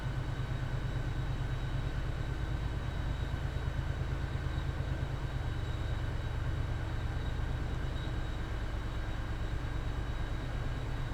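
An MBTA commuter train running in Train Sim World 5 gives a steady, loud low rumble with a rapid pulsing beat and a constant hum, heard alone and unbroken throughout.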